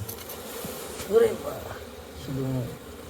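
Honeybees hum and buzz close by as a hive is cut from the corner of a house, the drone rising and falling over a few seconds while people talk nearby.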